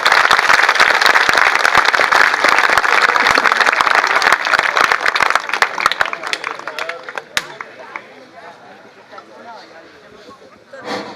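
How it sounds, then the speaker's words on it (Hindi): Audience applause at a teachers' farewell and retirement party. Loud, close clapping from a crowd fills the first seven seconds, then thins to scattered claps and fades, with voices underneath. "उनके लिए एक बार भरपूर तालियां बजा दें।"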